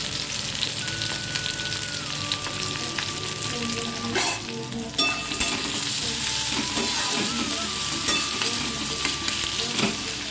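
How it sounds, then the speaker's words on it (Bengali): Onion and green chili frying in oil, a steady, loud, close sizzle that runs throughout with occasional stirring clatter and no talking. "একটু তেল দিয়ে দিলাম পেঁয়াজটা ফোড়ন দিয়ে দিলাম কাঁচা লঙ্কা দিয়ে দিলাম"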